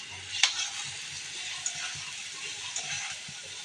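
Mixed vegetables stir-fried with spices in a pan while cooking kumro bori and meat, a soft continuous sizzle with a few sharp spatula taps and scrapes, close by and without speech.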